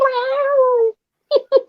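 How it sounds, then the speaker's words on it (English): A female cat in heat gives one long, drawn-out meow, then after a short pause two brief, close meows, all loud and up close. "when female cats in heat, they'll constantly meow to try to attract male cats to them"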